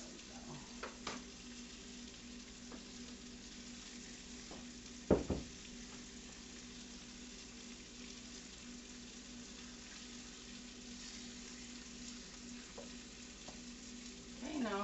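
Swiss steak browning in a pan sizzles and crackles steadily and softly for a long stretch, with a brief clatter partway through and no voices.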